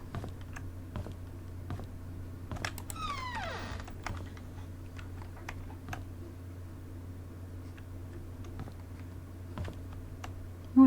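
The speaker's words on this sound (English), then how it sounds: "a typewriter" A typewriter in the video game The Painscreek Killings clacks in a quick, irregular run of sharp keystrokes over a low, steady hum, with a brief scraping slide in the middle.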